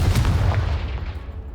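A Confringo fire spell from Hogwarts Legacy bursts against a pile of blocking debris, giving one loud, booming blast with a rumbling tail that fades over a second and a half, with no voices.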